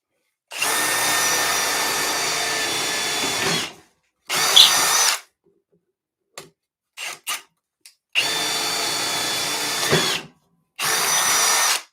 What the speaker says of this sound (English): I doubt this thing will even drill wood